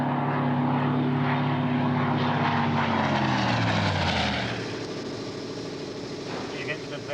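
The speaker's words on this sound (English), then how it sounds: "He has bought not 1, but 3 of the fastest piston engine fighter planes ever built" A piston-engine fighter plane, among the fastest ever built, flying past with a loud steady propeller drone whose pitch drops as it passes, then fading into a quieter distant hum.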